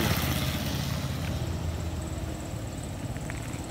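The engine of a Kawasaki Barako 2 motorcycle runs at idle with a low, steady rumble. It is close and continuous, and faint street background sits behind it.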